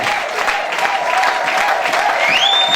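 A church congregation bursts into sustained applause and cheering, dense clapping and shouts filling the room at close range, with a high whistle-like tone rising near the end.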